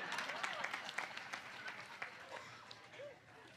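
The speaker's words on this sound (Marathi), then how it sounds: "ज्या अर्थी टाळ्या वाजवल्या त्या अर्थी आम्ही भ्रमात आहे" Applause from a crowd at a Marathi kirtan in Pune: a short, fairly faint ripple of clapping at a distance, with some murmuring and voices mixed in underneath.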